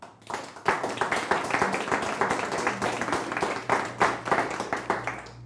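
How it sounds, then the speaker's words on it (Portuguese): Studio audience applause during the taping of a Brazilian TV program's first episode, dense steady clapping with individual claps standing out, sustained at moderate loudness from start to finish with a low hum underneath. "Também gostaria de aplauso"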